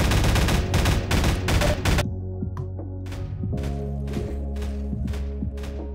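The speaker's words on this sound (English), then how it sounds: "the gun is attempting to catch up with what round it should be on, and in doing so becomes a shotgun rather than an assault rifle" An assault rifle in Half-Life 2 Deathmatch fires at a very low frame rate. A loud stream of rapid shots gives way to sparse, irregular bursts of clumped reports over a steady low hum.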